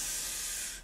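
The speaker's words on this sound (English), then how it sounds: "I'm never sure how much of this stuff you're meant to spray." A facial mist spray bottle fires one steady, close burst of fine hissing spray that fades out within a second.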